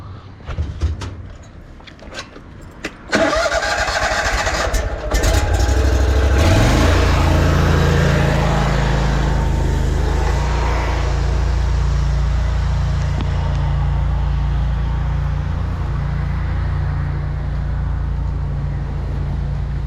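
A drain jetter engine on a blocked-drain job is cranked with a few clatters and knocks, then catches and settles into a loud, steady, rumbling idle that runs continuously nearby.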